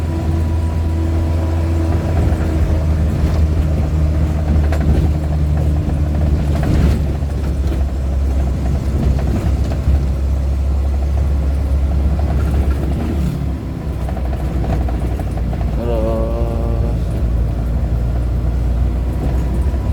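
A Suzuki Carry driven in third gear over a rough road gives off a loud, steady engine drone and road rumble. Occasional knocks and clatters rise above it, with no talk.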